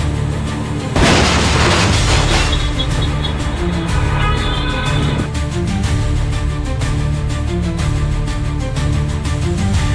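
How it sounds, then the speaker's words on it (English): A train slams into a car stopped on a level crossing: one loud, broadband crash burst lasts a second or two, set against steady background music. "the train just obliterated it"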